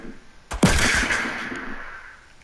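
A single loud shot from a pistol or revolver in a video game cracks out sharply and rings off in a long decaying tail, with no other voices over it.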